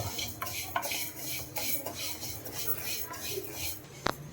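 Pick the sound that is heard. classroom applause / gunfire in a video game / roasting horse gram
roasting horse gram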